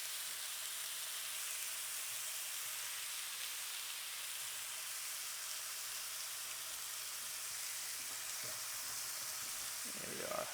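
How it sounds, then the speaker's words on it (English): Philly steak meat sizzles steadily in a 12-inch nonstick pan, a close, even frying hiss that runs the whole time, with a few faint clinks near the end. "Get a good generous amount of meat going down."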